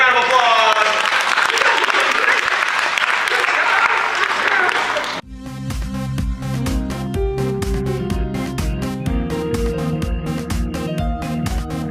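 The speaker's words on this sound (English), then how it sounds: "Give our little girl a big round of applause." A studio audience applauds for a little girl on a daytime show, a loud wash of clapping for about five seconds that cuts abruptly into upbeat music.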